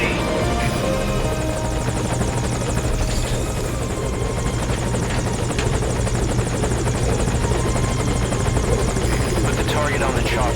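A helicopter idles at a landing zone in the video game Metal Gear Solid V, its steady loud rotor thrum and whine running unbroken throughout, with faint game voices beneath.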